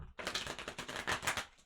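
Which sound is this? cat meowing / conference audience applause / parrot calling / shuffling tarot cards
shuffling tarot cards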